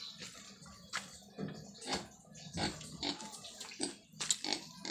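Two pigs grunt and snort in repeated short bursts at a home's yard, close and fairly loud, with occasional watery splashing and rustling between the calls.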